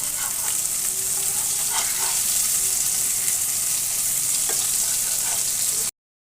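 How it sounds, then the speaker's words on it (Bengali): A large turmeric-and-salt-rubbed fish frying in oil, a loud, continuous close sizzle with scattered small pops and crackles, no voices, ending abruptly. "প্রথমে একটু ভেজে নেব"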